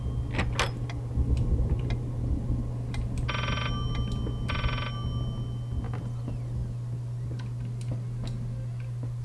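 A telephone rings twice in short electronic bursts inside the Layers of Fear video game, set against a steady low hum and ticking clock sounds, with no voices.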